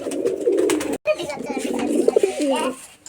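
Flying pigeons being sold coo in low, rolling murmurs close by, with a brief gap early on, while faint rustling and background sounds continue.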